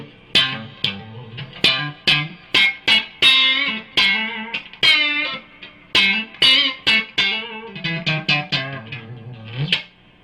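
Plucked electric guitar notes and chords through a Vox AC100 amplifier with effects, played in a choppy, rhythmic phrase with reverb tails.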